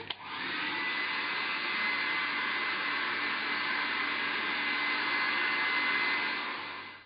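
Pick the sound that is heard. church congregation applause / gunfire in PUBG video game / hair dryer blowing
hair dryer blowing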